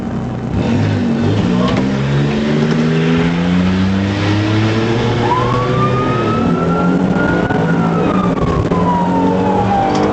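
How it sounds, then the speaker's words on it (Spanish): A sports car accelerates hard away from police, its engine revving and climbing in pitch while a wailing siren sweeps over the top, both loud and close and continuing throughout. "el conductor decidió acelerar su coche y huir"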